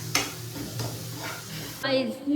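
Onion, cabbage, garlic, ginger and capsicum sautéing in a pan for soup, a steady close sizzle with stirring scrapes, a voice talking over it near the end.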